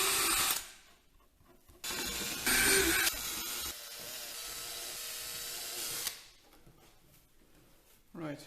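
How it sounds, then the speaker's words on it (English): Small drill boring pinholes at the ends of cracks in car plastic on a Peugeot 406 Coupé, several whining bursts of a few seconds each with brief pauses between them, close and moderately loud. "mark the end of the crack on all of these cracks and drill a pinhole to prevent the crack from propagating."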